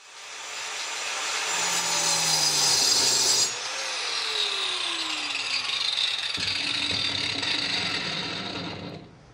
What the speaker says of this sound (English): Super, super hard to get an accurate cut with an angle grinder